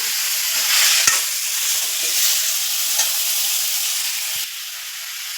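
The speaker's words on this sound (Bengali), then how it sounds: "এই মাংসটা আমি 5 মিনিট টাইম অন্য করে ফ্রাই করে নেবো" Chicken meat frying in a pan while being stirred, a loud close hissing sizzle with a few sharp clacks of the utensil against the pan, no talking.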